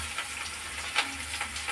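Diced onions fry in hot oil with nigella seeds in a wok, giving a soft, steady sizzle with faint crackles and a stirring scrape close by.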